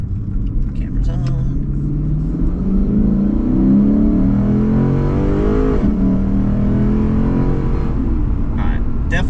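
A Lexus RC F Track Edition with its Toyota drivetrain pulls through a U-turn, its engine note rising and swelling in loud, close revving before easing off, with a person talking briefly over the steady car rumble.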